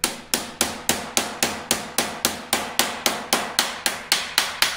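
Steady hammer blows folding sheet metal floorpan against a table, about three per second, each a sharp ringing strike with a quick decay, close and loud.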